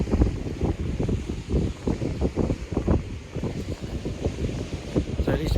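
Gusting wind buffets the microphone on a sea shore during a night sea fishing match at Lee-on-the-Solent, with low rumbling bursts and the wash of surf steady throughout.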